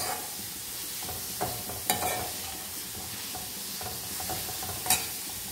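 Steady sizzling of vegetables frying in a pan, with occasional stirring clinks and scrapes; no talking.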